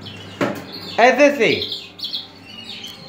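A competition canary gives short bright chirps and a squawking call near the start, with someone speaking over part of it.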